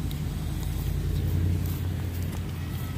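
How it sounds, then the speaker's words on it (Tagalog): An electric truck passes along a street on a warm day, a low steady rumble and road hum that swells to its loudest in the middle and eases off, with faint outdoor background around it. "There's the truck, electric."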